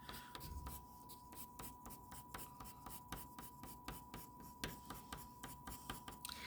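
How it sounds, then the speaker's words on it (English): Colored pencil scratching short, repeated fur strokes on paper, a soft quick rhythmic scribbling, close and faint. "I'm also going to take my color pencil and just add some more lines for the fur"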